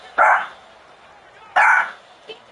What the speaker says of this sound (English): Our puppy Willow is barking.